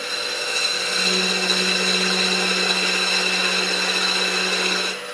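A wood lathe spins steadily while a parting tool cuts into the turning workpiece, a continuous close whine and hiss with a steady hum that drops away at the end.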